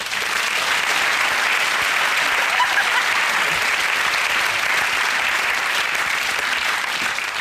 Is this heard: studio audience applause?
yes